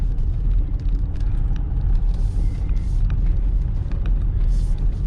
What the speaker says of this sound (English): We've got a car just down here